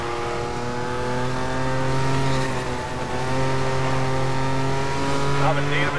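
Porsche 911 engine in Need for Speed: Most Wanted (2012), a loud sustained growl with rising and falling revs as the car drives, a brief dip mid-pass, and radio voices talking over it.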